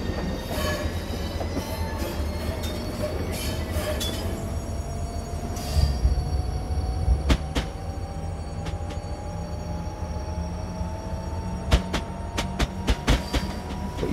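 A Class 395 train in Train Simulator 2018 pulls away on the South London network, with a steady rolling rumble, a rising motor whine and occasional sharp clanks and clicks, with no talk.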